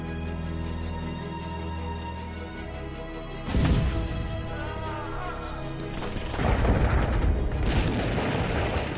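Archival footage of an atomic bomb explosion: deep, loud booming blasts roll in at two points and swell into a sustained rumble over a steady musical background.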